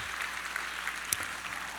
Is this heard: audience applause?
yes